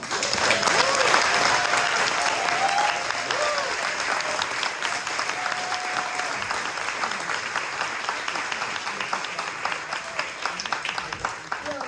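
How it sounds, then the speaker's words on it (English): Sustained audience applause for District 2 city council candidates at a Sacramento candidate forum, a dense, steady wash of many hands clapping for the full stretch with a faint voice or two underneath. "now clap for all of them"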